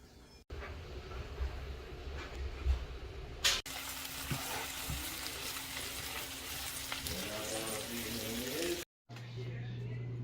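Ground beef and pork fry in a pan for tacos with a steady close sizzle and occasional stirring scrapes, the sound dropping out briefly near the end before a low hum returns.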